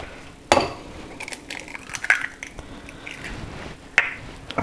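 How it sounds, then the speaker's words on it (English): Eggs cracked into a bowl: three separate sharp shell cracks spaced a second or two apart, close and fairly quiet, with faint handling noises between. "we just break the eggs into the bowl"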